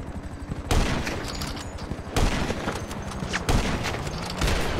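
Video game gunfire from a round in a competitive match, with three loud sharp volleys at regular intervals, each followed by rattling bursts and a fading tail.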